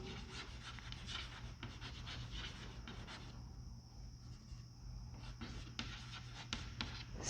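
Continuous scratchy rubbing of a pen writing on paper, steady and close, with a constant low hum underneath and no talking.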